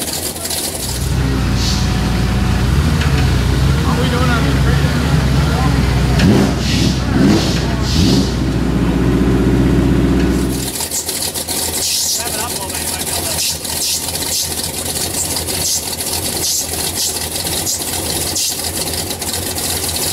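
A short bus engine cranks and settles into a steady idle for the first ten seconds, a loud low rumble with voices nearby, then the engine note gives way to broadband outdoor noise and talk.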